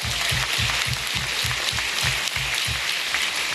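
A town hall audience in Decorah, Iowa applauds in a dense, steady wash of claps that fills the room evenly from start to finish, with no voices above it.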